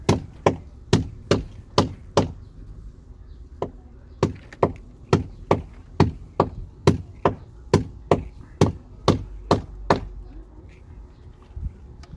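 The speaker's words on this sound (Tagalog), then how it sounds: "Kaya iingat ako sa pagpukpok kasi pag sumablay ka ng pukpok liko." A hammer drives nails into a boat in a steady run of about twenty sharp, hard blows, close and loud, with short pauses between groups.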